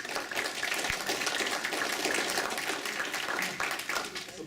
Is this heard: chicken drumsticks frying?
no